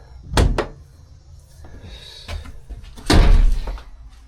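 A heavy bulkhead door on an aluminum trawler creaks and thuds shut, with a couple of knocks and clunks before a second loud bang of it closing.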